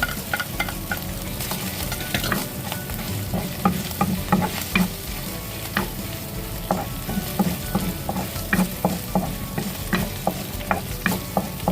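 Garlic sautéing in a hot pan while being stirred, a steady close sizzle with repeated scraping and clinking of the spatula, no talking.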